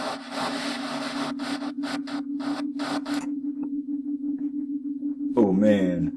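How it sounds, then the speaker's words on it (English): A simulated foot rubbing on carpet in a static-electricity demonstration: a series of rhythmic, scratchy strokes over a steady hum, ending with a brief, different sliding tone. "here's rubbing his foot on the carpet"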